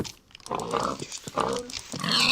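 Pigs in a survival video game grunt and oink in a few short bursts, close and fairly loud, with a brighter hiss rising at the end.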